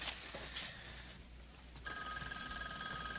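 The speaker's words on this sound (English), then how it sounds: "Robin, don't answer the phone. It's going to wake up my dad." A telephone rings in a 1981 horror film, shrill bell bursts at a moderate distance over a quiet room hum, with no one talking.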